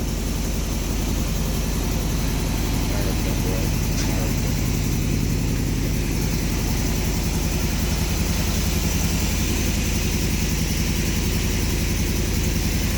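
A 1970 Datsun Roadster SPL311 engine idles with a steady, loud low rumble and a continuous shaking throb, while people talk over it.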